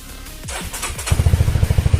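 A Honda CB150R motorcycle engine cranks briefly, then catches and settles into a steady, close idle with a quick even pulsing beat.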